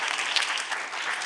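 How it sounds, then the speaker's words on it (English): Audience applause for competitors at an MIT 100K pitch competition semifinal, a dense, steady wash of clapping from a large crowd filling the hall, loud and sustained with no talking over it. "Let's give a huge round of applause for all of our competitors this evening."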